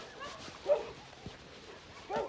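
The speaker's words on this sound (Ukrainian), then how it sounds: "Бач, заверіщали, блін. Думають, Маріна красунчика веде. Вон теж на цепі. Собачка на цепі" A small dog kept on a chain yelps and barks in two short bursts, with a fainter bark between them, heard outdoors during a walk near a field at moderate distance.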